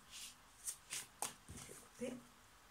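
A tarot deck of archangel cards is shuffled close up: several short, papery riffles and flicks in quick succession, quiet and soft.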